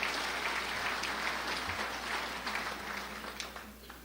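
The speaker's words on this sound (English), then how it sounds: "He needs a round of applause just for that alone" A round of applause from the audience at a city's annual State of the City address, dense steady clapping heard from a distance in a large room, fading slightly toward the end.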